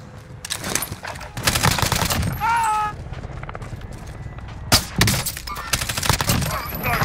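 Dense, rapid gunfire and explosive bursts from a first-person shooter firefight, with loud overlapping volleys and a few sharp impacts, mixed with game effects and voices.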